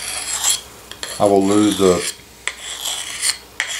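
A knife being sharpened, blade rasped in several strokes with a brief metallic ringing tone partway through, close and loud, with no voices.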